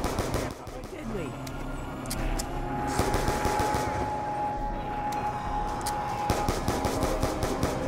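A Tommy gun fires in Call of Duty zombies mode Mob of the Dead, rapid automatic bursts rattling almost continuously under chaotic game noise, with players talking over it.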